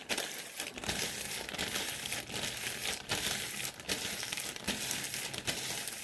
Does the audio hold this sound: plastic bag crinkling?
yes